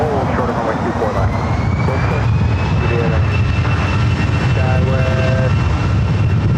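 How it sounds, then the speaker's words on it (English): A Delta Airbus A319 rolls for takeoff on runway 24 left at Los Angeles airport, its jet engines giving a loud, steady roar throughout, with a voice speaking intermittently over it. "that Delta A319 cleared for takeoff now on 24 left"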